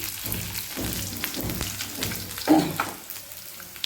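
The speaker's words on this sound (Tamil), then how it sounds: "அடுத்து ஒரு மூணு வரமிளகா தீ விட்டுட்டு அது போட்டுக்கலாம்" Three dried red chillies dropped into hot oil for a paruppu rasam tempering give a close, crackly sizzle with soft pops and a brief louder burst partway through.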